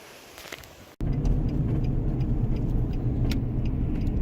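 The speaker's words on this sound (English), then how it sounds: "You join me in the car on the way home." Inside a car on the drive home, a brief quiet gives way at about one second to a sudden thud. A steady, close engine and road rumble follows and continues without talk.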